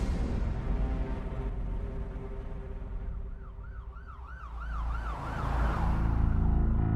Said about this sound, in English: Philippe Frisson, pulled up to the hospital with his sirens on